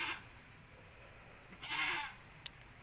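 Goats out grazing on farmland: two short bleats, the second louder, plus a faint tick, all fairly distant in a quiet outdoor setting.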